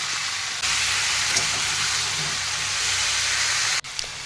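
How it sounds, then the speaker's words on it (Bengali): Potato, radish and eggplant frying together in hot oil, a loud, steady broadband sizzle that bursts in and holds evenly for several seconds before cutting out abruptly near the end. "এবার আমি এই তেলের মধ্যেই সবজিগুলো দিয়ে দেবো আলু মূলো বেগুন একসঙ্গেই দিয়ে দিলাম"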